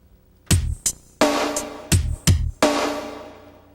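An Opcode Vision drum sequence from 1996 snapped to eighth notes, giving a tighter pattern of kick, snare and crashing cymbal hits in quick succession, close and loud, with no voices.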